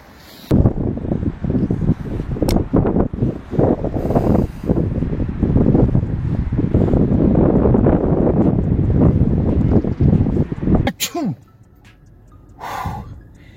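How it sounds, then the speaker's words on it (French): A strong, cold wind buffets the microphone at a winter fishing spot, loud rumbling gusts that roar for several seconds, drop away briefly, then surge again. "Session écourtée à cause du vent."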